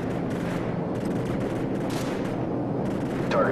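Heavy AC-130 gunship fire in Call of Duty 4 Modern Warfare, heard as a rumbling, muffled barrage that stays loud and steady throughout, with a slightly sharper burst near the end.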